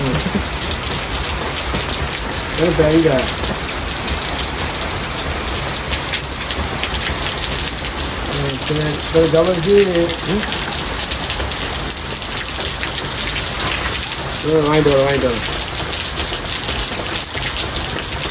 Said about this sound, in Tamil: இந்த மழையாக ஊற்றிட்டு இருக்குது